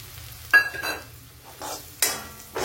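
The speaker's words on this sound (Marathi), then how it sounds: "आता आपण हे शेंगदाणे टाकून देऊ।" Peanuts tossed into a hot pan and stirred while cooking sabudana khichdi: a sharp clatter followed by a few scraping stirs and a light sizzle, close by, with no voices.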